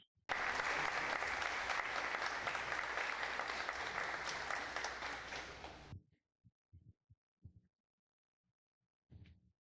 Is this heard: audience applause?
yes